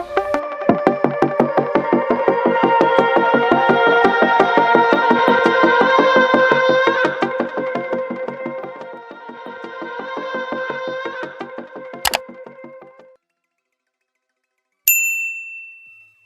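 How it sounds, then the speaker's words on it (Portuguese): Channel intro jingle for a Bible study program: a bright chiming, bell-like melody plays loud for about thirteen seconds with a sharp metallic hit near the end, then a pause and one final ringing ding. "roda a vinheta, editor."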